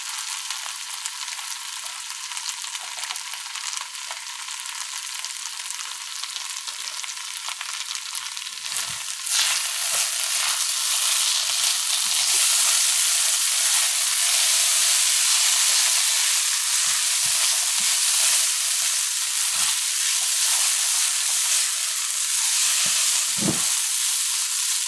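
Fried rice sizzles in a pan as fried rice seasoning and spice powder go in, a steady loud hiss that swells to a fuller roar midway, with scattered clinks of stirring.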